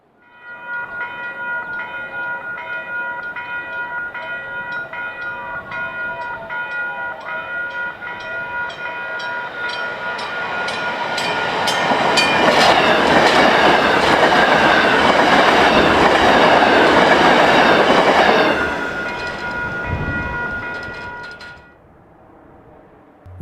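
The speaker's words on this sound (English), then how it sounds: "Looking north, train 303 has arrived at Munster Ridge." A South Shore Line passenger train rolls into Munster Ridge station on its opening days, a loud steady rumble with squealing wheels and rising clatter as it passes close by, then quickly fading away, with no voices.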